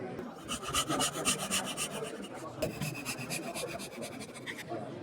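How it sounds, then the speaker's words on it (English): Hand saw cutting a dovetail in wood with a magnetic guide, steady back-and-forth rasping strokes close up, continuous and even in rhythm, with no talking. "with a firm grip on the guide, light grip on the saw, down to the line"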